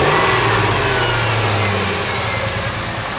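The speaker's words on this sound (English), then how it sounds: "Let's give it a little rev." A 1998 Ford Expedition's 5.4 V8, just fitted with a new IAC valve, runs with a steady mid-pitched hum after a light rev, easing back slightly toward idle near the end, close and without speech.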